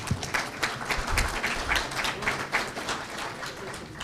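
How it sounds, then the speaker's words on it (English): Audience applause for Senate candidates Mr. Phillips and Mr. Cooper at a morning candidates panel, a steady patter of many hands clapping for several seconds at moderate volume. "Let's give them a round of applause."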